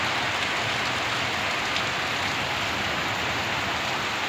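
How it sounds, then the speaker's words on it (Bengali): Heavy rain pours steadily onto trees and a waterlogged road, a dense, continuous hiss with no breaks, loud and close throughout. "খুব বৃষ্টি হচ্ছে, রাস্তায় অনেক জল"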